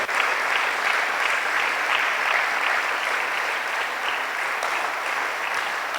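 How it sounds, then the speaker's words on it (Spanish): Sustained applause from a church congregation during a sermon, steady and dense clapping filling the space for the whole stretch without a break. "Dale un fuerte aplauso a Cristo."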